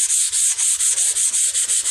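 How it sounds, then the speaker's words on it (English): Sandpaper rubs dyed wood along the flat grain in quick, even back-and-forth strokes, about ten rasping passes heard close up with no talking. "sanding off the dye from the flat grain"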